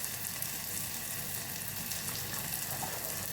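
Spice mixture sautéing in a pan for a homemade veg pulao, a steady, close, even sizzle and frying crackle that runs without a break and with no voices.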